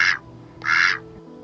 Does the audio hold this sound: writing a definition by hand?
no